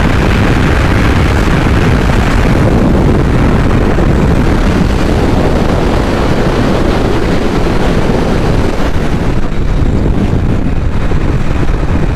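Loud, constant roaring wind buffeting the microphone on a motorcycle ride throughout, a dense rumbling rush with no pauses and no voices.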